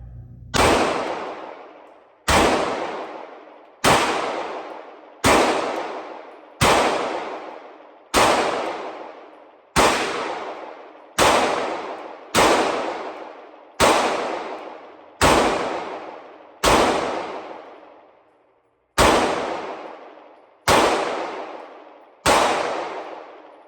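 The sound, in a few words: gunshots from Walther PDP pistol, Blazer brass 115 grain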